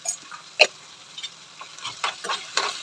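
Turmeric frying in oil in a pan, soft crackling sizzle with scattered sharp pops and light stirring taps, close and quiet.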